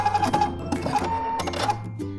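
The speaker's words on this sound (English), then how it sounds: "I'm going to hit the cut button." A computerized sewing machine runs its automatic thread-cut function at the end of a seam, a brief busy whir of mechanical clicks and buzzing, close and alone.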